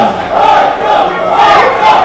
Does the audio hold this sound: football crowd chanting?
yes